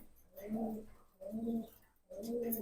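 Jabra pigeons coo close by in three soft, rounded calls spaced about evenly apart, with quiet gaps between.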